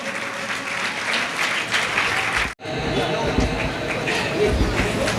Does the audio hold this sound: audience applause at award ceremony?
yes